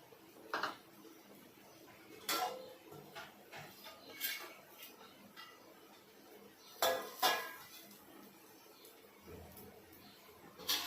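Grated coconut is dry roasted in a pan, with intermittent scrapes and clinks of a utensil against the metal, faint and close, separated by quiet gaps.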